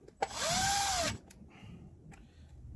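A power drill whirs in one short burst about half a second long as it drives a screw tight on a Mercury binnacle remote control, followed by faint clicks and quiet.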